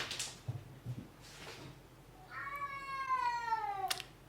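A cat gives one long, drawn-out meow that slides downward in pitch, fairly close and clear, after a few soft indistinct sounds over a quiet background.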